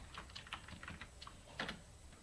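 Keys clatter on a computer keyboard in quick, uneven bursts while someone types code into a Visual Studio text box, close and fairly quiet, with no talking.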